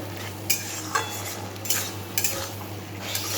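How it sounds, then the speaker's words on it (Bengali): Turmeric powder is stirred into simmering kochu shak with prawns, a spoon scraping the pan in several short strokes over a low steady hum, close and with no talk. "খুব ভালোভাবে মিশিয়ে নেব"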